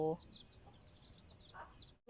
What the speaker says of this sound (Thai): นี่คือไก่นะคะทุกคน